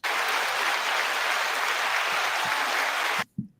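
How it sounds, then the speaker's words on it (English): Loud, dense applause from a bar audience fills the room without a break for about three seconds, then stops abruptly, leaving a couple of faint knocks. "You didn't realize you're getting applause."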